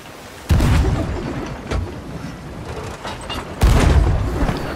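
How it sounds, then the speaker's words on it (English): Fireworks set off on a sailing trip, two heavy booming blasts with rumbling tails and a smaller thud between them, loud and close, with no voices. "Shot fireworks."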